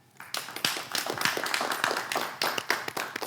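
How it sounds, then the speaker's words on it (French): Communication students from ESTAC and ISDB applaud at an evening youth event, a burst of brisk, fairly close hand claps with sharp individual slaps, alone without talk. "Ils vous disent bonsoir en applaudissant"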